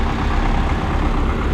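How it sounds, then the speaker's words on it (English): A steady, rumbling idle of two tractor engines, low and dense, runs continuously and fairly loud without any change in pace. "Both tractors are running."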